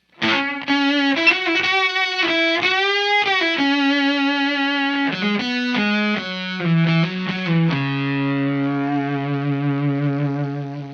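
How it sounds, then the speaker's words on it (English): Electric guitar fuzz tone run through a Santono Uno preamp pedal, with a loud, sustained, harmonically rich distorted melody line of bends and held notes played alone, settling into a long ringing final note. "if you've got a fuzz that's honky or really, really heavy on the treble side and you want to tame it a little bit"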